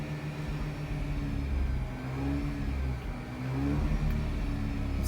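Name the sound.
Mazda RX-8 engine downshifted to fourth gear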